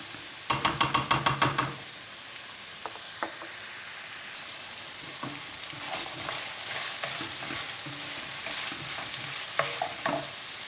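Minced meat and onions sizzle and fry in a pan, with a quick burst of rapid stirring clatter at the start and occasional scrapes and taps of a utensil afterward.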